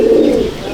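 A single short, close coo from an Andhra pigeon in a loft, loud and low, heard alone.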